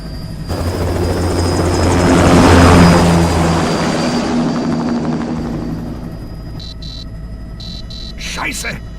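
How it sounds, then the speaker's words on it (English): An aircraft taking off in the video game Metal Gear Rising: Revengeance, a loud steady whirring engine and rotor drone that swells and then eases, with a few electronic beeps and a brief voice near the end. "Commencing takeoff in semi-auto mode."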